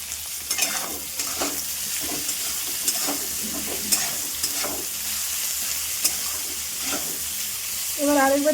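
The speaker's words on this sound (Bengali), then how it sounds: "তারপর করলা আলুগুলো দিয়ে দিয়েছি। এগুলো একটু ভাজা ভাজা হতে থাক।" Bitter gourd and potatoes fry with chillies in a pan, a steady close sizzle broken by repeated scraping stirs, with a brief louder burst of frying near the end.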